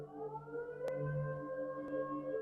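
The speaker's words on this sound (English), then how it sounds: "The sirens are going off." A small-town fire alarm siren calls volunteer firefighters, a long sustained wailing tone heard at a distance, steady and droning, with a couple of sharp clicks nearby.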